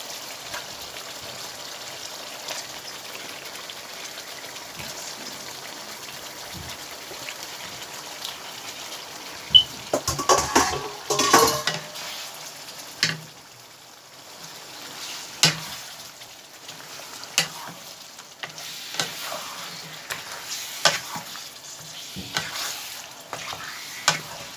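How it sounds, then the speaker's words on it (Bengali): Duck meat tipped into a pan of spice masala sizzles and fries quietly, with scattered scraping stir strokes and a burst of louder clattering stirring midway. "মাংসগুলো দিয়ে দিলাম।"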